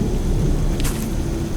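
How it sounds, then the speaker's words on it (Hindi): Heavy rain pours down in a dark, dense forest at night, a loud steady downpour with a deep rumble of thunder running beneath it. "अरे बारिश तो काफी तेज हो गई है"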